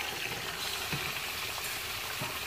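Beef pieces for nihari sizzle and fry in a pan, a steady hiss of spattering oil with faint crackles, close and continuous with no talk.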